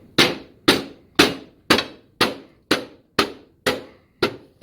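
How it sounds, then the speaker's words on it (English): Nine sharp hammer strikes land at an even, unhurried pace, each a crisp close-up bang that quickly rings out, during a snowmobile tunnel extension on a Polaris Pro X. "I got my hammer."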